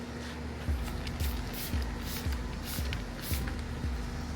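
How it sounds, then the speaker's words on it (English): Repeated hissy bursts of a car protection spray being applied, at a steady rhythm, about one every half second, over a constant low hum. "Just spray."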